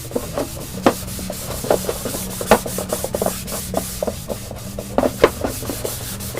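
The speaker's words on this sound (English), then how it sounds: "go ahead and rub that right into the grain" A cloth rubs finish into wood grain during an encaustic wax painting, with close, brisk scrubbing strokes and scattered sharp scrapes repeating in an uneven rhythm, and no voices.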